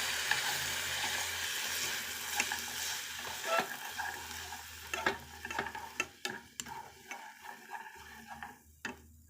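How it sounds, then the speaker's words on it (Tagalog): Chili and choy sum are sautéed in a pan with a quiet, steady sizzle at first, then sharper spatula clicks and scrapes that come in quick irregular bursts. "Tapos, gisa po natin ang chili."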